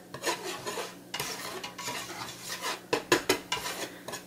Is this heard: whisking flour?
yes